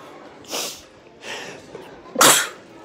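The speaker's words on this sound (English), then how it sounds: "About to sneeze" Three sharp, breathy sneezes or sneeze-like bursts at a Walmart, loud and close, spaced about a second apart with quiet in between.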